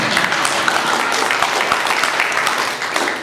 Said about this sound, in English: Give it a clap. Yeah. Please clap again.